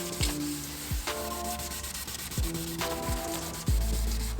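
A headlight lens is sanded with fine-grit sandpaper, giving a steady soft rubbing hiss broken by a few low thumps and bumps. No one speaks.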